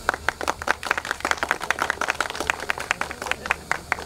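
Sparse outdoor clapping from a small crowd at a hill-climb rally trophy ceremony in Kartepe, individual hand claps distinct and uneven, fairly quiet and loosening into scattered claps rather than a full roar.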